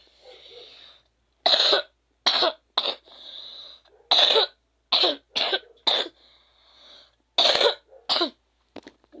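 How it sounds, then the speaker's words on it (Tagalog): Repeated harsh coughs and throat clearing from a person with a sore throat, in uneven bursts of single and double coughs spread over several seconds, close and loud against a quiet background. "huwag niyo pansinin yung ubo ko"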